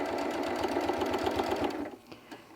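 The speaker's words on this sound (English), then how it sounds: "I'm stitching along on the other piece of fabric" A sewing machine stitches along pieces of fabric while a crumb quilt block is sewn, running in a steady close mechanical chatter that stops near the end, leaving a few faint clicks.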